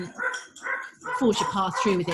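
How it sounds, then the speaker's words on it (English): Several dogs bark and yip intermittently in the background, moderately loud, underneath someone talking in the foreground. "Sorry about the dogs in the background."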